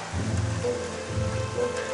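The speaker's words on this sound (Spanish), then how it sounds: "Pero no se va a ir con este granizo." Hailstones pelting a roof and surfaces during a severe storm, a steady dense drumming that fills the whole stretch with no voices over it.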